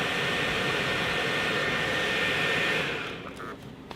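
A Mercedes W140 S600's climate control fan blows air in a loud, steady whoosh that suddenly eases off near the end, leaving a quieter hiss.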